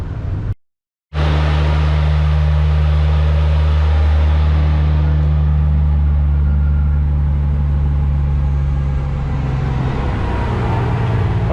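Fully rebuilt Toyota Supra 2JZ-GTE engine in a Top Secret GT-300 car running on a dyno, a loud, steady droning engine note that holds nearly constant after a brief gap, with a strong low harmonic hum.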